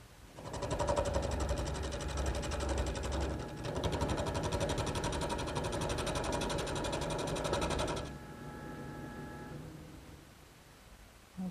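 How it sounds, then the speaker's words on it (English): A wood lathe spins a long, thin chair leg blank to turn it round, with a steady rest nearby: a steady, close mechanical whir with rapid rhythmic chatter for about eight seconds, then a quieter winding-down hum. "The first thing that I want to do is turn this blank round."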